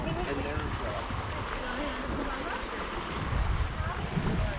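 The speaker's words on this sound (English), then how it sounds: "This is where the water flows out of Lake Itasca, and this is the actual beginning right here of the Mississippi River." Water flows out of Lake Itasca at the Mississippi River headwaters in a steady broadband rush, mixed with wind buffeting the microphone, while a person talks over it.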